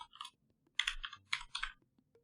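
Fingers type on a computer keyboard in short, close bursts of clicking keys separated by brief pauses.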